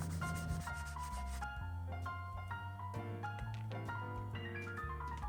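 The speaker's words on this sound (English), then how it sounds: "I just have some sandpaper on an oscillating tool to smooth it out" Sandpaper on an oscillating power tool smoothing an edge of a part on a Husky FC350 supermoto build, a continuous close buzzing rasp with a wavering pitch as the tool shifts against the edge, and no one talking.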